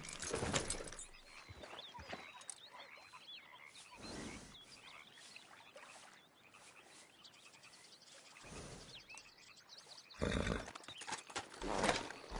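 Horse hooves gallop in Red Dead Redemption 2, a steady drumming of beats swelling in loud bursts and easing between them, with a neigh-like cry and outdoor ambience.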